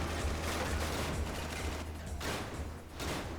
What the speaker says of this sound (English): That's another gunshot.